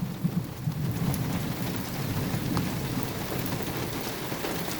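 Heavy thunderstorm rain in Littleton, Colorado, pours down as a dense, loud, unbroken roar of drops hitting surfaces, with a low rumble underneath and no voices.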